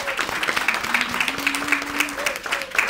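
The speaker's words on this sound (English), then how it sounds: "I would like you to give a round of applause for Ms. Catherine Seelis and all the directors" An audience at a micro grant award ceremony claps together, a lively steady patter of hands with some voices and a tonal hum running under it.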